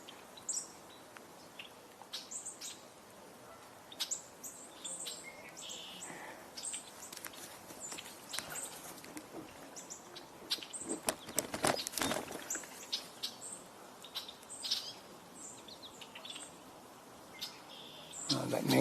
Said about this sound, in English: Again, white-throated sparrow.